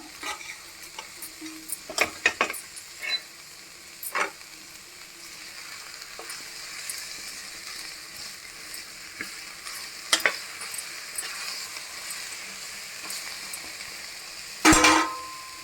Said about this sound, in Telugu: ఉల్లిపాయలు వేగాయి కదా కొంచెం మనం మునక్కాయ వేసుకుందామండి అలాగే టమాటా కూడా వేసుకుందాం